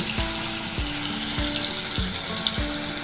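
Fish frying in hot oil in a pan on a stove, a continuous loud sizzle with a few soft thuds and clinks of a utensil at regular intervals.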